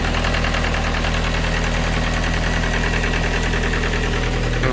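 A Rover 25 GTI engine idles right after its first start in six weeks, a loud, close, steady mechanical drone with an even pulsing throb and no talk over it.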